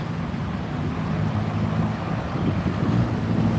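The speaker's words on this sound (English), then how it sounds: "is it too windy?" Constant buffeting wind noise rumbling against the microphone on Khao San Road in Bangkok, a broad low roar with gusts swelling toward the end.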